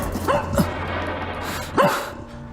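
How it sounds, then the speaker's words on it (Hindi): A puppy gives two short, sharp yipping barks about a second and a half apart against a murmuring indoor background. "ये पिल्ला कुछ बता रहा है।"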